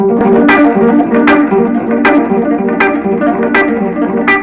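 Rapid electric guitar arpeggio repeating a bright, heavily effected pattern with echo and shimmer, picked notes accenting regularly, loud and continuous with no talking.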